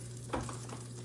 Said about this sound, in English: You hear that sizzle sound?